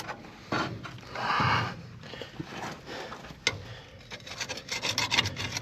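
Rough, uneven scrubbing and rasping strokes scrape road grime and oil off a leaking PTO pump on a dump truck, close by, in short bursts with a sharp knock midway and quicker rubbing toward the end.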